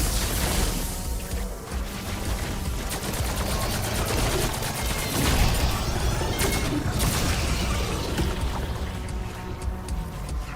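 Nail gun fire in Black Ops 6 zombies, during a Mystic Gold camo grind against swarms of vermin: a dense, continuous barrage of rapid sharp shots with crashing impacts, loud and close, running without pause.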